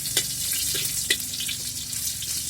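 Onions frying in a pan while cooking bottle gourd (upo), a close steady sizzle with a couple of sharper spits and a low hum underneath.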